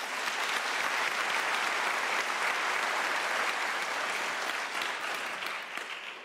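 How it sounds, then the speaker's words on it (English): Sustained applause from an audience at a university graduation ceremony, dense and even for several seconds, then fading slightly at the end. "give Professor Amadi Echendu another round of applause"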